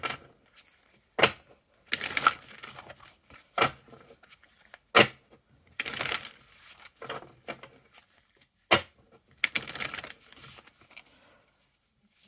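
Oracle cards are drawn and shuffled, giving sharp papery riffles and slaps in irregular bursts with quiet gaps between, close and clear with no talk.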